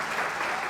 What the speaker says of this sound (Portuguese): Vamos aplaudir a equipe